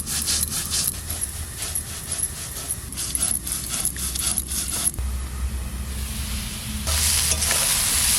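Onion fries in a hot pan with a constant loud sizzle, while a utensil stirs and scrapes against the metal in quick rhythmic strokes. The frying grows brighter and hissier toward the end.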